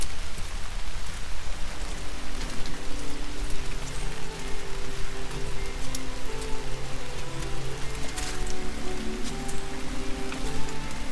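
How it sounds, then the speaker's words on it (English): Steady rain falls on the surroundings along a bridge walk through a nature preserve, a dense, continuous hiss of drops at even loudness with no talk over it. "if it wasn't for this rain,"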